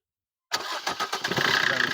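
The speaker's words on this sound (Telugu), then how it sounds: "ఇంజిన్ కూడా స్టార్ట్ చేసి చూస్తాం ఎలా ఉందనేది" A 2018 Maruti Suzuki Brezza engine cranks and catches after a brief silence, then settles into a steady, close idle with a rhythmic pulse.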